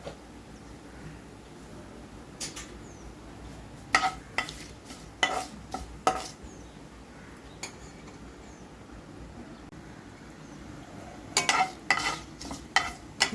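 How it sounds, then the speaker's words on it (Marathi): A metal spoon stirs cumin seeds and curry leaves in ghee and oil in a kadhai, giving scattered scraping clinks and taps over a faint sizzle, busier near the start and again toward the end. "हलकसं फिरवून घेणार आहे"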